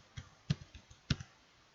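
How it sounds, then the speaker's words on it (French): A few light clicks from a computer keyboard while a username and password are entered, sparse and quiet with soft uneven taps. "on met notre pseudo et ensuite, on saisit notre mot de passe"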